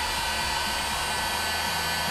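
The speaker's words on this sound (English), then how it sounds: "I knew you didn't bring that hair dryer for your hair" A hair dryer blows hot air onto a DDR4/3 PHY test board, a loud steady whirring roar that runs unbroken and alone throughout.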